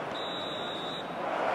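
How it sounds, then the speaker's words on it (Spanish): A referee's whistle in the eFootball 2023 mobile football game during a Manchester United versus Liverpool match: one sustained shrill tone lasting about a second, heard over steady crowd ambience. "Suena el pitido del árbitro."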